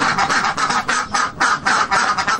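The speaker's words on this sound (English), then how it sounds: "The duckling gave a loud quack." A duck quacks in a rapid series of short, loud, nasal honks, repeated steadily and up close with no talking over it, used as a sound effect for a duckling in a fairy-tale audiobook.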